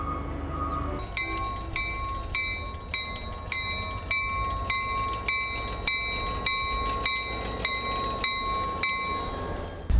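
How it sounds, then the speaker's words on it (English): Heavy railroad hopper cars rumble steadily while dumping stone ballast onto the tracks, repeated sharp metallic clanks ringing out at regular intervals, with a sustained high tonal whine throughout. "The operation you're seeing here is dumping stone ballast onto the railroad tracks from the hopper cars."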